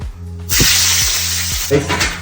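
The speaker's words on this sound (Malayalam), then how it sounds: "ചൂടായതിനകത്ത് നമുക്ക് കുറച്ച് ഇഞ്ചി ഇട്ട് കൊടുക്കാം. ഇഞ്ചി വെളുത്തുള്ളി പേസ്റ്റ്." Ginger-garlic paste hits hot oil in a pan, bursting into a loud, steady broadband sizzle that swells and holds for about a second and a half, with a short low voice fragment before it and a brief flare near the end.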